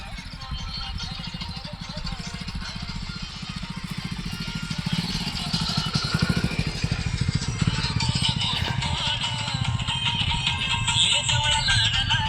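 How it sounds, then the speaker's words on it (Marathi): A tractor engine chugs steadily at close range on a farm, a continuous rapid low throb that grows slightly louder over the span. "ट्रॅक्टर आलाय बघा त्याचा आवाज."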